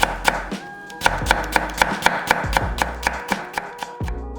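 A knife slices a carrot into thin 0.3 cm pieces on a cutting board, giving quick, evenly spaced, crisp chops close up with no talking.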